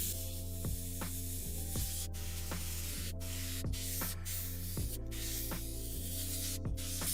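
A Harder & Steenbeck Colani airbrush sprays acrylic ink as a steady, continuous hiss with no pauses, joined by a faint mechanical hum and repeated soft clicks.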